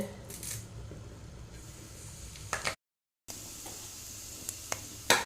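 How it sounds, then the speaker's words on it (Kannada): Curry leaves dropped into hot oil in a home kitchen pan give a steady close sizzle with a few sharp crackles, a short gap of silence midway, then the frying hiss resumes with occasional pops. "ಈಗ ಎಣ್ಣೆ ಬಿಸಿಯಾಗಿದೆ ಸ್ವಲ್ಪ ಕರಿಬೇವನ್ನು ಹಾಕ್ತೇನೆ"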